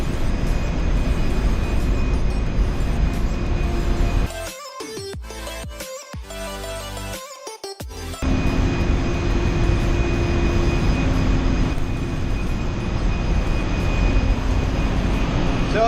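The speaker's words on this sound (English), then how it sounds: "or the waste oil settling tank evaporation fan." Waste oil settling tank evaporation fan running in a VLCC tanker's engine room: continuous loud machinery drone with a steady tonal whine. A few seconds of choppy interruption break it midway before the drone resumes.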